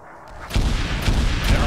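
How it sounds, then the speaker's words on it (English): Mortar shells landing in the military game Arma 3, a deep rumbling blast that swells suddenly and keeps booming as further impacts roll in, loud and close. "Mortars incoming."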